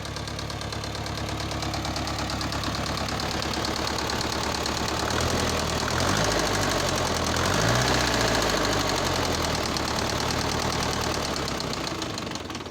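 A Chinese tractor engine idles with a heavy, rhythmic knocking, loud and close, rising briefly in pitch midway before settling back to a steady rough clatter.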